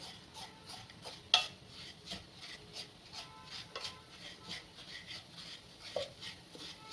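Melting jaggery syrup is stirred in a pan, with a spoon making repeated light taps and scrapes against the metal at a steady, unhurried pace. The sounds are close but faint.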